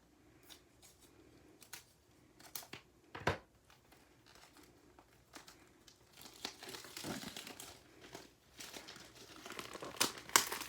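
Paper craft kit packaging for a pumpkin-themed card kit being opened: soft crinkling, rustling and tearing of plastic and paper, quiet and close, with busier handling toward the end and no voices.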